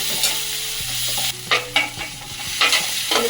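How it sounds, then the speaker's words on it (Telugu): Ginger paste and turmeric stirred in a hot frying pan for omelette curry, a steady oily sizzle broken by several sharp scraping strokes of the spoon against the pan. "అల్లం పచ్చివాసన పోయిన తర్వాత మంచిగా కలుపుకోవాలండి"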